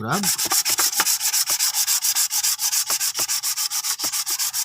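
Steady back-and-forth scrubbing of a brake part with 1000-grit sandpaper on glass, many quick, even strokes in a continuous rhythm, close and fairly loud, with no talking.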